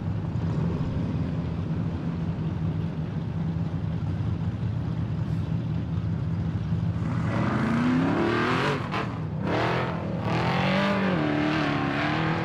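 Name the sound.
off-road race car driving at King of the Hammers qualifying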